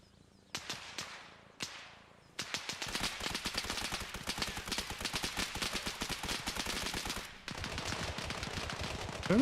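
Gunfire crackles at a milsim training night: a few separate shots ring out first, then a long run of rapid, sharp bursts. The shots sound moderately close, break off briefly, and then start again.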